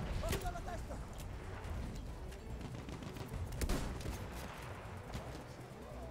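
Battlefield 1 gunfire, scattered sharp shots and a few louder cracks popping through a low battlefield rumble, faint and distant, with talk underneath.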